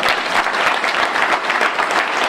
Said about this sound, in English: If you believe in these kids, once again, clap your hands.